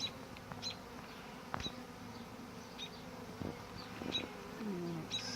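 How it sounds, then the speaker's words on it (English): A swarm of bees buzzes close by, a faint steady droning hum with individual insects flying past in brief louder passes. "just kind of watching the bees."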